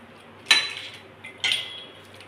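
A metal spoon clinks twice against a pan while salt is stirred into misal, two short bright scrapes about a second apart over a quiet kitchen background.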